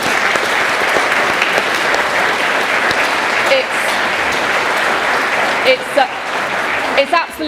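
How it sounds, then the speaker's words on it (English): A crowd at an anti-war rally applauds the organisers, a loud, dense and sustained wash of clapping with a few voices and cheers breaking through near the end. "So just a round of applause for the organisers."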